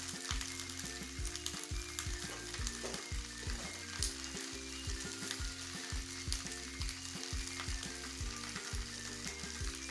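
Machh paturi, fish wrapped for steaming, cooks in a covered pan over very low heat, giving a steady, gentle sizzle and frying crackle with soft irregular pops throughout, close and continuous with no talking.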